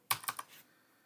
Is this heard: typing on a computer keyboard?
yes